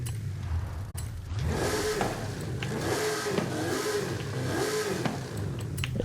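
A twin turbo V8 in a 1986 Ford F-150 off-road build from Forza Horizon 5 revs repeatedly, cycling up and down in steady surging waves of engine roar after a brief cut at the start.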